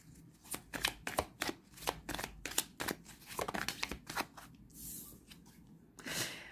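Tarot cards being cut and shuffled by hand, a close, crisp series of rapid riffles and slaps in uneven bursts, ending with a softer sliding shuffle, no talking.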